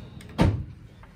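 A drawer being pushed shut in a classroom art setting, one firm thud with a brief slide, close and alone.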